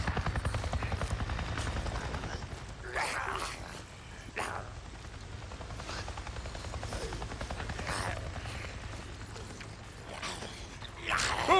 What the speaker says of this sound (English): A Nero chopper! It just buzzed right over me and acted like I wasn't even there!